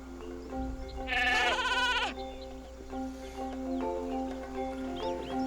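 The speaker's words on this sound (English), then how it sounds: "Honestly, Hugo, they're just sheep." A video game sheep lets out one loud, wavering bleat close by, followed by softer bleats and background chatter-like sounds over a steady low hum.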